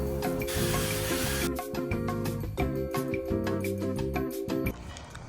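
A cover for a cracked car dash being washed with water: a steady, close spray and splash of running water over a hissing flow, with a low hum and some tonal bands underneath throughout.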